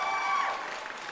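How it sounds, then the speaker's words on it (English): Short livestream applause alert effect, a brief burst of synthetic clapping and cheering at low volume, heard alone with no voice. "Thank you so much for the applause."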